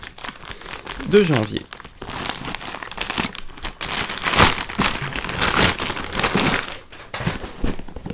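Cardboard box and packaging crinkling and rustling as a Flaming Licks hot sauce subscription box is opened, with someone talking over the steady papery crackle.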